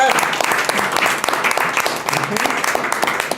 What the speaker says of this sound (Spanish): Entonces también démosle un aplauso a Lacan.